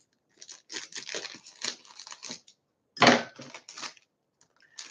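A Muncheros snack bag being opened from the bottom, heard as bursts of crinkly plastic rustling and crackling followed by a louder tearing rip, close by with no talk.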